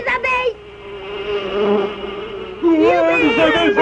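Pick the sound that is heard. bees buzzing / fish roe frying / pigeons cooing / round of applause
bees buzzing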